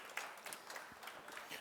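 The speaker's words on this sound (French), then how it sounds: "je vous demande vraiment d'accueillir par vos applaudissements nos deux chefs basques" Crowd applause at a food trade show cooking stage, welcoming two Basque chefs; a steady, fairly faint wash of clapping from many hands throughout.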